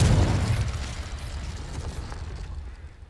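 Confringo blasting spell exploding in the game Hogwarts Legacy, a heavy booming blast that opens loud with deep rumble and then decays into a long crackling, debris-filled roar.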